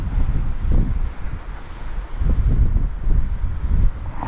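Wind buffeting a microphone beside an upper trout pond in Pennsylvania, a loud continuous low rumble rising and falling in gusts, with no voices.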